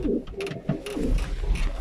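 Soft, low domestic pigeon coos repeat in short rolling phrases, close by in a pigeon loft, over faint background noise.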